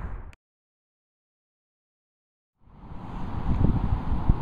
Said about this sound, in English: I'm trying to keep out of the wind because it's absolutely atrocious out here